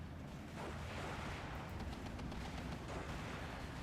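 Grenade blasts and gunfire in the WWII strategy game Steel Division 2, a dense, continuous rumble of distant explosions and crackling shots with no talking over it.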